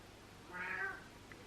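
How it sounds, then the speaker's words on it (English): A house cat gives a single short, faint meow indoors, alone against a quiet background. "That's my cat."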